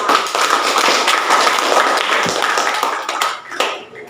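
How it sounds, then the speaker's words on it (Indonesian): Classroom applause from a group of students and teacher, a dense patter of hand claps lasting a few seconds before thinning out. "Tepuk tangan untuk kita semua."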